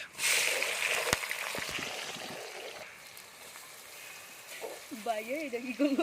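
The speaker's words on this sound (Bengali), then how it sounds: "পেঁয়াজ ভাজা অবস্থায় আমার হাতে তেলের ছিটা চলে আসছে" Onions fry in hot oil for chicken biryani, a loud close sizzle with sharp spatters that gradually softens, then a person begins speaking over the quieter crackle.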